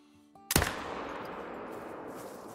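A single rifle shot fired while hunting in the mountains in the game Call of the Wild: one sharp, loud crack followed by a long rolling echo that fades slowly, with no talk.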